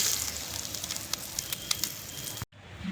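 Fish pieces fry in hot oil in a pan, a close, continuous crackling sizzle with scattered pops that cuts off abruptly near the end.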